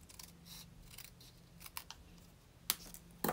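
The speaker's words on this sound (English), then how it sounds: "Now I'm going to cut this Highland Heather one in half." Scissors snipping through Highland Heather cardstock to cut it in half, a few quiet, sharp crisp cuts spaced irregularly, close up with a faint background hum.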